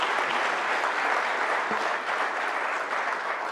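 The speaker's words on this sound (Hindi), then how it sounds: "निवेदन करूंगी आप सभी से जोरदार तालियां" Loud, sustained applause from a crowd at an official election commission event in honour of polling officials, steady and continuous throughout.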